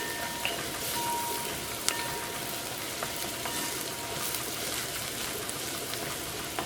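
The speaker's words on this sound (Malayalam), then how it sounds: "ഈ മഞ്ഞൾപ്പൊടി ഇതിനകത്ത് കിടന്നിട്ട് നന്നായിട്ട് മുരിയണം." Turmeric powder frying in hot oil with onions for a tomato fry: a soft, even crackling sizzle carries on steadily, with a few small ticks and pops scattered through.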